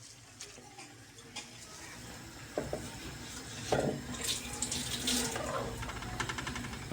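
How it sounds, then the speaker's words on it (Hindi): Soaked rice, about a kilo soaked for 20 minutes, pours into a pot holding a litre of water while aloo pulao is cooked. Splashing and trickling water sounds rise mid-clip and continue steadily, close by, with no talk. "अब वो चावल ऐड करेंगे"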